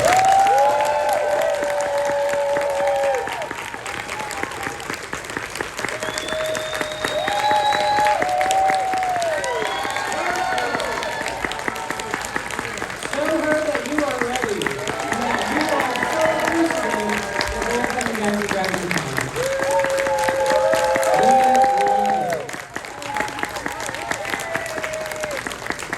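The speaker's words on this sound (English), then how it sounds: "Let's go ahead and start giving them a round of applause." A DragonCon convention audience breaks into sustained applause and some cheering for arriving guests, a dense crowd wash lasting the whole stretch, with a presenter talking over it.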